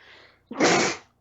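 One sharp, loud sneeze up close, with a brief intake of breath before it and silence after.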